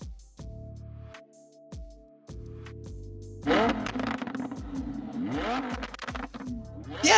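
A Lamborghini sports car engine starts with a steady low drone, then revs hard in rising and falling bursts that grow louder toward the end, close and loud.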